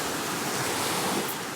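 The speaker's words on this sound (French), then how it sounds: "C'est cool les vagues là, hein?" Ocean waves break and wash on a surf beach, a continuous loud broadband roar of surf with no distinct breaks and no talking.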